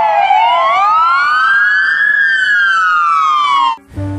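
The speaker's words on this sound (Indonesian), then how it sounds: "American police car." Black toy American police car siren wailing loud and close in a single long rising-then-falling sweep, cutting off abruptly near the end.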